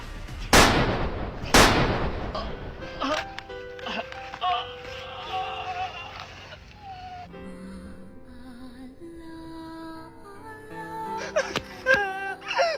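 Two sharp, loud gunshot-like bangs open a zombie attack comedy skit, followed by wailing, moaning cries and scattered sound effects with music-like tones.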